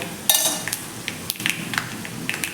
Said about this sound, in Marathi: व्यवस्थित आपण मिक्स करून घेऊया एक मिनिटभर आपण परतून घेऊया